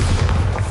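A Bombarda blasting spell goes off in the video game Hogwarts Legacy, a single brief, loud, booming explosion with a heavy low rumble.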